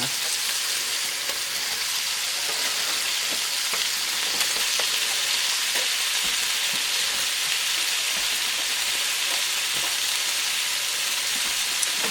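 Stew beef seasoned with salt and pepper browning in a pan, a steady close sizzle and crackle running unbroken throughout with faint scattered pops and no talk.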